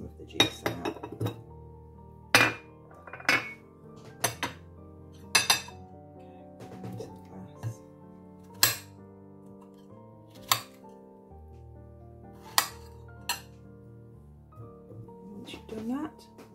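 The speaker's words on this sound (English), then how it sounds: "So just giving them a little bit of a crush before we put them into the glass." Fresh strawberries crushed in a glass: scattered sharp clinks and taps of a utensil against glass over a quiet background, irregular and close.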